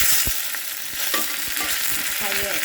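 Dried red chilies and mustard seeds sizzle in hot oil, a loud close hiss with sharp pops and crackles and a few utensil taps over a short moment.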